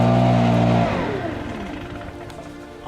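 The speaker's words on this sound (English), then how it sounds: "I'm loving this blower, guys." A Stihl leaf blower engine revs high with a strong harmonic whine, then drops off and falls back to a lower idle, close and loud with no talk over it.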